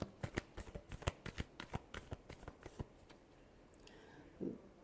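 Tarot cards are shuffled by hand in a quick run of crisp riffling snaps and flicks, close and fairly quiet, then a brief soft rustle after the shuffling stops.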